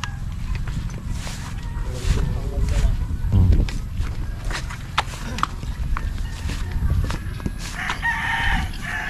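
A fighting rooster crows on a muddy rural road after overnight rain, heard amid outdoor ambience with other fowl clucking, hoof-like clip-clop and people talking nearby.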